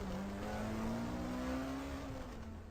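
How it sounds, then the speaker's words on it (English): A truck roars off down a road, its engine note steady and rising slightly as it accelerates away, loud and continuous throughout with no voices. "The guy sprinted back to his truck and tore off down the road"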